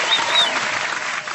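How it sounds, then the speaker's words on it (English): A studio audience at a live wrestling-themed radio show claps steadily in a dense, continuous burst of applause that fades slightly at the end. "give a big round of applause over to Tim Cross."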